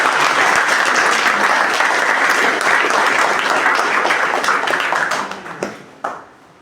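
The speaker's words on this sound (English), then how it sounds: "let's all give us one more loud round of applause" Audience applause at a career guidance workshop, a dense, loud burst of clapping from a large crowd that holds steady and then tapers off into a few last claps.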